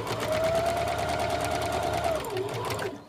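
Sewing machine running a steady, fast stitch along the neckline of a peasant-style dress, close and continuous for a couple of seconds before stopping.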